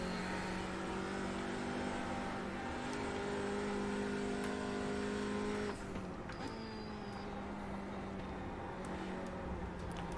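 Race car in a racing video game accelerating around the Mosport circuit, a steady loud engine drone holding a sustained tone that drops briefly around a gear change midway, with no talk over it.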